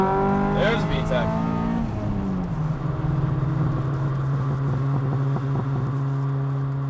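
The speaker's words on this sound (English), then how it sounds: "There's VTEC." A Honda Del Sol Si-R engine revs hard and climbs into VTEC, the pitch rising and then settling into a strong sustained drone, heard from inside the car with someone talking over it.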